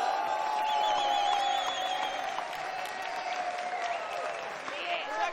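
Audience applause and crowd noise during a rap audition performance, clapping running under a prominent rapping voice across the whole short stretch.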